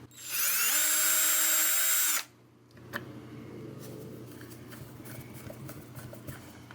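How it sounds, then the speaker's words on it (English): A power drill bores holes for the output jack in a cheap Stratocaster-style guitar body, one loud sustained whine for about two seconds, then stopping, followed by faint clicks and handling noise. "Drill the holes for the output jack."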